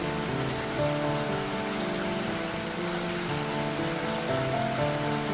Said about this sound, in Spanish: la lluvia empezó a cubrir toda la ciudad